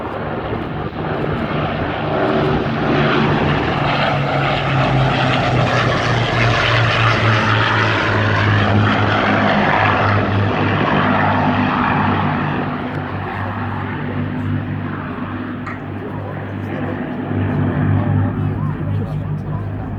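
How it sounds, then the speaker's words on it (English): An Avro Lancaster, the WWII four-engine propeller heavy bomber, flies past at an air show. Its loud, deep droning engine roar swells and slowly shifts pitch as it passes, with a commentator talking over it. "Hurricane now has eyes on the Lancaster, coming in from your right-hand side"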